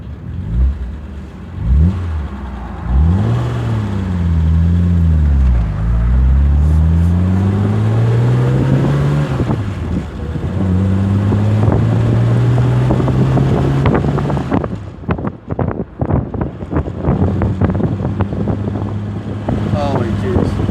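A 1965 Jaguar XKE sports car drives along an open road, its engine note loud and close as it climbs and falls through repeated gear changes and throttle swells, with wind buffeting throughout and someone speaking over it.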